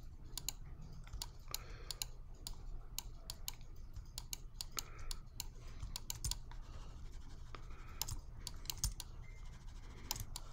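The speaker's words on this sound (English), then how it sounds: "A lot of clicking today, guys." Rapid computer keyboard typing and mouse clicking during a digital sculpting session in Mudbox, a quiet run of crisp irregular taps and clicks over faint room hiss with no talking.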